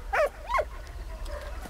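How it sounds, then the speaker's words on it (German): A dog in the World War I video game Valiant Hearts gives two short, rising-and-falling barks close together, followed by a fainter yelp, all close and clear over a low background hum. "Oh, braver Hund."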